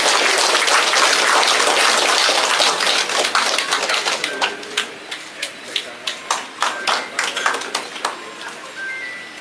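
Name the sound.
applause at a ceremony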